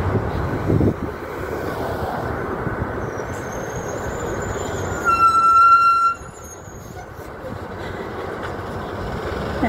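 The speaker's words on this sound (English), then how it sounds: "There's the subway I told you all about." Subway train passing near a sidewalk during a city walk, a steady loud rumble with a brief rise in roar and a high screech or whine midway before fading back to street noise.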